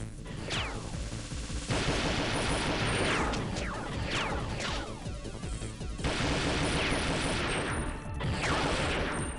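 Rapid video-game gunfire from Perfect Dark's Attack Ship Covert Assault level, loud repeated bursts of shots with crashes and mechanical clatter running continuously throughout.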